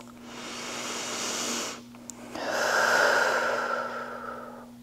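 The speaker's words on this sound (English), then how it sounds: "Deep inhales and exhales" One deep inhale followed by a long, forceful exhale during a yogalates mat workout, breathy and close-miked over a faint steady background hum, with no talking.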